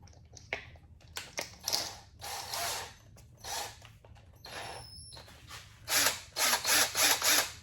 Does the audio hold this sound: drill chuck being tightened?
yes